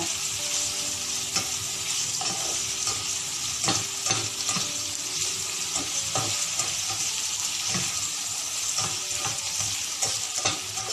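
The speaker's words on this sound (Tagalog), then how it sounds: "pagkatapos na magisa yung onion, scoop muna natin" Onion sautés in a pan, a steady bright sizzle with scattered pops and crackles and occasional soft stirring scrapes, continuous and fairly quiet with no voices.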